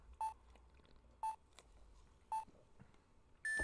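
Four short electronic phone keypad tones in a video game, spaced about a second apart, clear and fairly quiet over a low hum.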